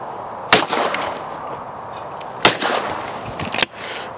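Two sharp, loud shotgun blasts from a Blaser F16 game gun, about two seconds apart outdoors, each followed by a short echoing tail, with a fainter crack near the end.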